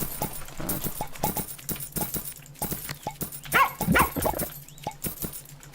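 Cartoonish dogs in the farming video game Plantera bark in quick, repeated yaps over a steady rhythm of clip-clop-like tapping game sounds, with occasional whimpers.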